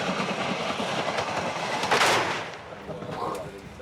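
A film stunt for The Lone Ranger in which a train smashes through a boxcar. A continuous heavy rumble of rolling rail cars swells into a loud crashing burst midway, then settles back into a rough roar.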